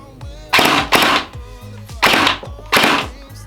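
An LDT HK416D gel blaster fires heavy gels outdoors, giving four sharp, loud shots in an uneven rhythm, each with a brief mechanical whir before it and no talk over them.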